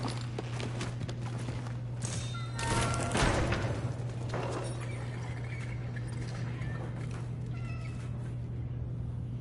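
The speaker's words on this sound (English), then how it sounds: "Little kitty cats, man." A cat meows a few times in the horror video game Cronos: The New Dawn, faint and brief over a steady low hum and soft footstep-like thuds, with no talking.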